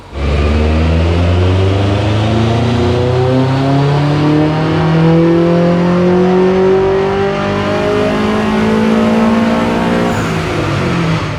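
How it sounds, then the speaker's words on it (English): A Subaru WRX STI fitted with Syvecs anti-lag revs hard on a track run, a loud, continuous engine note that climbs and falls through gears for the whole stretch, with no talk over it. "Everyone wants to see some more of Dave's STI, so we'll show you all the runs."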